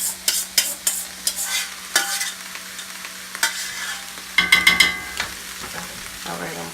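Shrimp, crab meat and breadcrumbs stirred in a skillet for a seafood bell-pepper stuffing: irregular spoon scrapes and clacks against the pan over a light sizzle, with a quick burst of stirring near the end.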